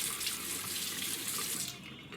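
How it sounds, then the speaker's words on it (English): Lukewarm tap water runs from a faucet and rolls off a cupped hand and arm, a steady close splashing hiss that stops abruptly near the end. "letting the water roll off my arm"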